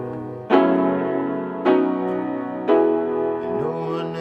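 Piano playing the worship song There Is None Like You: three sustained chords struck about a second apart and left ringing, close and moderately loud, with a fourth softer change near the end, no talking.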